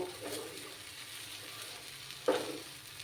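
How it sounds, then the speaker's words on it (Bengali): Mashed flat bean paste stir-fried in a pan, with a low steady sizzle and a single louder scrape of the spatula near the end, quiet and close. "আর একটু সময় আমি ভাজা ভাজা করবো তারপর আমি নুন দেব"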